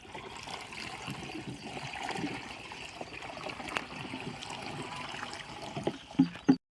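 Well water trickles and splashes steadily into a pesticide sprayer tank on a farm, a soft continuous pouring with a couple of louder sloshes near the end, heard alone without talk.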